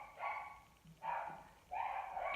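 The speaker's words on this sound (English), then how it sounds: "So my dog's barking" A pet dog barks at home in a sequence of three harmonic, sustained barks spaced about a second apart, moderately loud and fairly close, with no talking over them.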